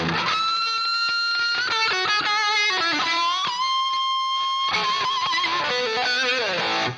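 Hair metal electric guitar tone from a HeadRush rig captured through a Dynamic 421 cabinet microphone: loud, saturated distorted chords and sustained lead notes played continuously for about seven seconds, with no voice.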